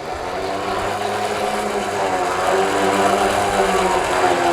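A Jeep winch reels its cable back onto the drum with a steady motor whine and hum, rising slightly partway through, continuous and fairly loud throughout.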